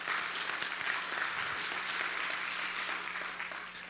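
Audience applause at the opening ceremony of the HITCON CMT 2023 security conference, a steady, moderately quiet wash of many hands clapping that holds evenly for a few seconds before easing slightly, with no talking.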